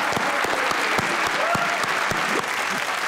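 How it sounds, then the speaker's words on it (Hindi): A studio audience at a Pakistani comedy talk show claps loudly and continuously for about three seconds, a dense and even burst of hand claps with no talking over it. "भाई एक बार ताली हो जाए"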